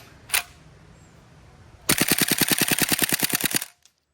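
A full-auto Saiga 12 shotgun fires a rapid, evenly spaced burst of about twenty loud shots lasting nearly two seconds, preceded by a single sharp click, then silence.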